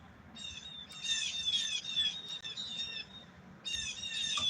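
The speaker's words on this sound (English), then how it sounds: "You hear the birds in the background." Many birds singing loudly outdoors, a dense chorus of high bright chirps and trills coming in overlapping bursts over a low rumbling background.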